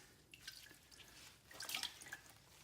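A soaked fiberglass exhaust heat wrap is squeezed out, and water drips and trickles from it in quick, irregular patters. The sound is faint and close, with a brief heavier run of drips near the end.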